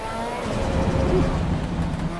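A Ferrari engine hums steadily while driving, rising slightly in the middle, with a low continuous drone and no talking.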